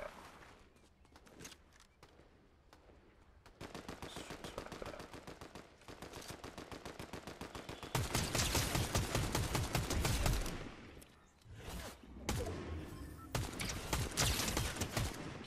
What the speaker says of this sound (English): someone is threatening shooting somewhere